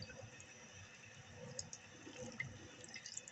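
Rice being rinsed in a bowl of water during home cooking, a steady low sloshing and trickling with small splashes, continuous and fairly quiet.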